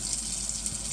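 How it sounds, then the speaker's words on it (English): Water pours steadily from a tap over a paint brush at a sink, rinsing out paint in a continuous hissing splash for a brief moment. "just pour the water right down the middle so that it gets down deep in the brush"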